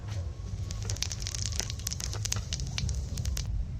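Cumin seeds crackle and sizzle in hot oil close by, a dense patter of small pops over a low hum, with no talking.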